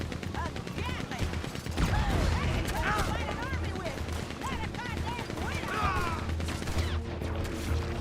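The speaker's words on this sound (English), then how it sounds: "Gatling." Gatling gun firing in Red Dead Redemption 2, heavy bursts of rapid gunfire with mechanical clatter, loud and continuous, mixed with someone talking excitedly over it.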